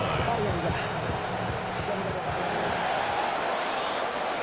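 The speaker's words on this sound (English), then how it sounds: "several thousand 12th men and women cheering as the Seahawks win at home" A large stadium crowd cheers in a Madden NFL video game as the Seattle Seahawks win at home, a continuous roar with a commentator's voice talking over it.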